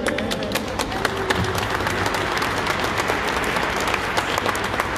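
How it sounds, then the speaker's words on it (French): Audience at a speech event breaks into applause for a speaker, a dense sustained patter of many hands clapping at close range for several seconds. "Je vous propose de l'applaudir."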